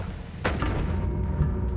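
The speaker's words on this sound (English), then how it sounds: "What we can do is we can try dropping bombs and hope for the best." A single muffled bomb blast booms in Powder Game, a soft thud with a short rumbling tail over a constant low background drone.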